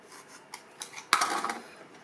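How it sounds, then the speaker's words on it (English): Tape bound tightly around a hockey stick handle is peeled and stripped away, giving a few soft ticks and then a short, bright ripping burst that crackles for about half a second, close to the listener. "start to strip back this tape that's been bound on pretty solidly"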